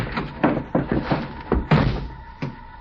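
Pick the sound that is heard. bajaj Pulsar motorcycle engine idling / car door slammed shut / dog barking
car door slammed shut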